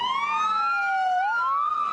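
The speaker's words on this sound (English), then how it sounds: "Ambulances scream away from the Michigan Technical Academy just as school is letting out for the day." An ambulance siren wails as it pulls away from the Michigan Technical Academy in Detroit, its loud, close tone sweeping up and down in a continuous, piercing cycle with no voices.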